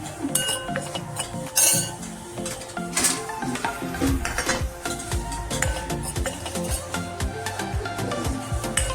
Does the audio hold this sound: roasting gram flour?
yes